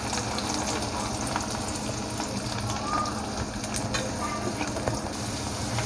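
Sliced okra sizzles in hot oil with a dense, continuous hiss and crackle, steady and close throughout, with someone speaking softly underneath.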